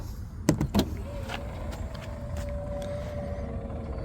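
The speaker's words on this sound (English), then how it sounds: "Let's go ahead and close the door." A door on a 2020 Chevrolet Traverse AWD 1LT closes with a couple of quick thuds and latch clicks, followed by a faint, steady motor hum.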